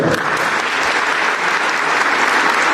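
A group of schoolchildren claps loudly and continuously at a talk on values, the dense applause filling the room from start to finish.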